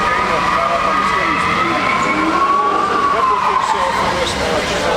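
Loud, steady roar of Dodge car engines fills the background at a Mecum auction in Kissimmee, with a rising and falling whine and a faint voice buried underneath.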